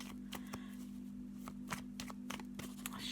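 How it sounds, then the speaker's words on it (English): Quiet hand shuffling of a tarot deck, a series of soft crisp card flicks and riffles in uneven clusters, close-up and faint over a constant low hum, no voices present. "shuffle of the cards and pop down our card for the day."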